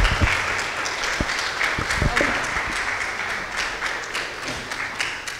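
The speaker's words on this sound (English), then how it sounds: "here's a round of applause for Shana, and she'll talk a little bit." An audience at a juror talk applauds steadily, with dense clapping filling the clip at a constant level and a few louder nearby claps standing out.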